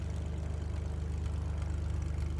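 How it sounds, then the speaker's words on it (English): Propeller engine of a Lancair aircraft in a flight simulator game, running steadily at a low idle like a ground run-up, a constant deep hum that stays level throughout. "it's like we're doing an engine run-up or something"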